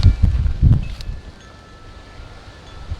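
Outdoor wind sweeps through garden plants, with a couple of strong rustling gusts at the start that fade to a quieter breezy hiss, close to the microphone and without speech.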